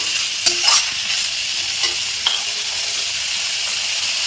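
Fried cauliflower and chopped tomato are stirred together in a pan, with a steady close sizzle and a few soft spoon scrapes.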